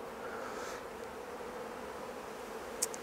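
Honey bees on a hive frame in a colony affected by chronic bee paralysis virus, giving a steady, soft, continuous buzz close by throughout, with a brief sharp click near the end.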